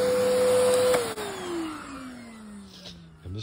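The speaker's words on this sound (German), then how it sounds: "Mein Staubsaugerkabel ist nie so lang." A vacuum cleaner sucks out a filter, its motor whining loudly with a strong steady tone that then drops in pitch and fades as it winds down, a brief clatter near the end.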